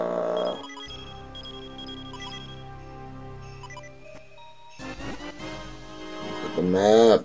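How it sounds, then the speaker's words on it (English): Electronic beeping from The Legend of Zelda: The Minish Cap game audio, a run of repeated tones over steady background game music, with a short burst of voice near the end. "Sorry about that beeping"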